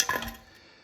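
A brief metallic clink and rattle from a loose part inside a catalytic converter on a 2012 Jeep Wrangler 3.6 Pentastar, ringing out and fading quickly.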